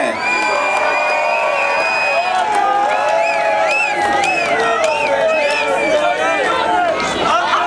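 Crowd at a sports league closing event shouting and chanting in unison with cheers and whoops, a loud continuous roar of many voices close by, including children shouting.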